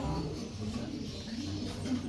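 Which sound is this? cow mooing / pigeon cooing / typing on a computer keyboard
pigeon cooing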